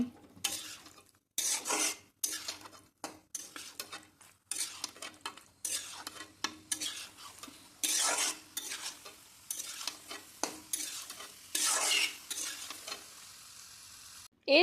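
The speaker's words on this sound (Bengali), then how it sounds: "পাস্তাগুলোকে দেওয়া হয়ে গেলে একটি খুন্তির সাহায্যে খুব ভালোভাবে মশলার সাথে মিশিয়ে নিচ্ছি" A spatula stirs boiled pasta with spices in a wok, giving repeated scraping strokes in short bursts with brief pauses, close and moderately loud, with no talking.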